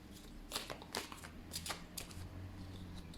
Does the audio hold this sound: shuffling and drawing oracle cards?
yes